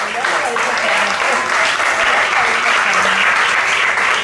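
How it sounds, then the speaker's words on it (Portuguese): Church congregation at Igreja de Nova Vida do Catete applauding God during a sermon, a loud continuous roar of clapping and voices filling the room without pause. "aplauda a Deus no seu melhor"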